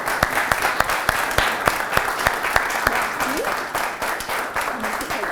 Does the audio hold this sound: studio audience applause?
yes